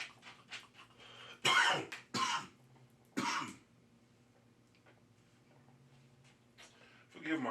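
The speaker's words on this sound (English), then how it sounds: "Forgive my cough." A person coughs several times in short, sharp bursts, with quieter pauses and faint ticking between them, recorded close in a quiet room.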